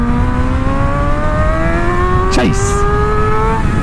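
A motorcycle pulling away from about 30 mph with the clutch out and a sharp throttle yank for a wheelie, its engine note rising steadily, loud and close against steady wind noise, with a brief whoosh near the end and a short spoken word.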